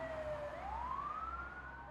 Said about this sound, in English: Then they shut the ambulance doors and sped off with the sirens blaring.